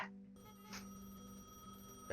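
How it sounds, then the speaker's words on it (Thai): A telephone rings inside the video game Gas Station Simulator, a steady electronic ring tone holding for about two seconds over a quiet game background, with no voices. "เดี๋ยวรับโทรศัพท์ก่อนละกัน"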